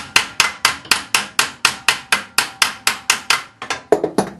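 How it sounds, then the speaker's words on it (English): A hammer taps a nut threaded onto a shaft while taking apart a Fiero headlight assembly, about fifteen sharp metallic strikes in a steady rhythm, loud and close, with a few quicker lighter taps at the end. "put the nut on the end there and tap it with the nut to protect the threads"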